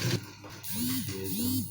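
A sewing machine works along a trouser back pocket, its motor whirring up in two short runs with mechanical ratcheting and clicking, close and fairly loud, with no talk.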